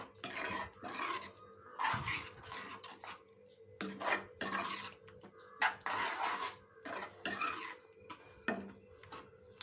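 Prawn and gongura curry being stirred in a pan, with repeated scraping and clanking of a spoon against metal in bursts of strokes, and faint sizzling underneath.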